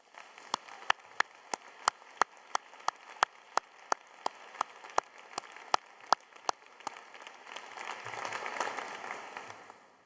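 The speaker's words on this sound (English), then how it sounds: "let's also applaud your supporters and your families and your friends and show them just how much you appreciate them" Sparse, sharp individual claps ring out at a graduation ceremony, a few hands striking at a steady pace over a soft background wash that swells toward the end.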